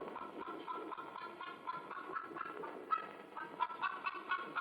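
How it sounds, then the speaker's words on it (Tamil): Chickens cluck repeatedly at a steady, moderate level, with a few louder squawk-like calls toward the end and no talk. "நினைச்ச உடனே அந்த கோழி வருது பாருங்க"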